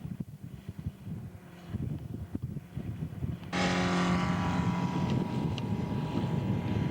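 A Seidel 9-cylinder radial engine turns on a scale Yak-11 model aircraft, running slightly rich, with a steady droning roar that grows markedly louder and fuller partway through and then holds.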